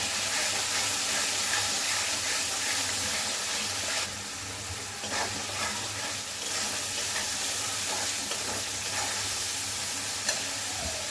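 Jackfruit and prawns sautéing in a pan with salt, a steady close sizzle and hiss under repeated scraping stirs, with no one speaking.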